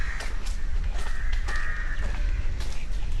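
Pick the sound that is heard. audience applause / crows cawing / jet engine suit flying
crows cawing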